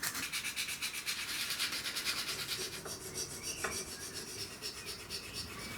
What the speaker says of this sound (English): I'm going to start sanding this